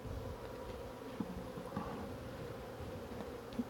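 Honeybees drone in a soft, continuous buzz during a first beehive inspection, a low hum close by with a few brief louder passes of individual bees and no speech.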